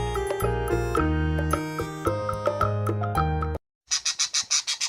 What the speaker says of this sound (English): P for parrot.